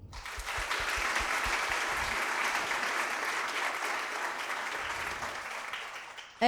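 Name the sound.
audience applause at a piano recital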